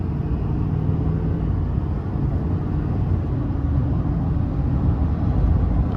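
A 2024 GMC Sierra 2500HD AT4 pickup with a Duramax turbo-diesel V8 and 10-speed automatic accelerates on the road, a steady loud low engine drone and rumble that holds without a break, with no voices.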